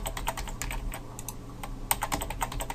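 Someone types a password on a computer keyboard: a quick run of close, crisp key clicks with a few brief pauses, with no talking.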